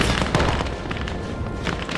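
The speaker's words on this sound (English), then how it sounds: "They are under so much fire from the mortars, but they are trying to move." Mortar barrage in a World War 2 strategy video game set during the siege of Warsaw, a dense, continuous run of booming blasts and crackling gunfire that stays loud throughout with no speech.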